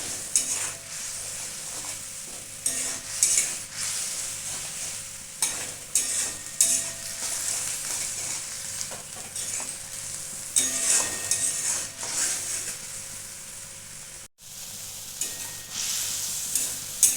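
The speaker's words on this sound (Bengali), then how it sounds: "এটা আমি খুব ভালো করে কষিয়ে নিয়েছি" A spatula scrapes and stirs a sizzling, spiced mixture with turmeric and salt in a pan for a gandha bhadali leaf curry, with repeated scraping strokes over a steady close frying hiss and no talking.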